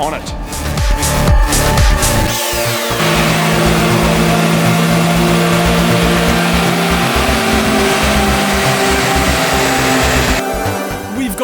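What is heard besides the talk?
Daihatsu Charade engine revving on dyno, stock run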